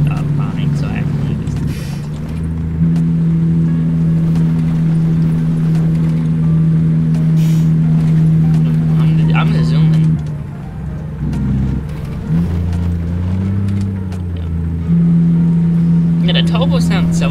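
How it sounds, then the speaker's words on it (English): A truck engine in American Truck Simulator, running as a steady droning hum that rises and falls with a turbo whine, loud and close, while someone talks over it throughout. "turbo sounds so nice in this truck"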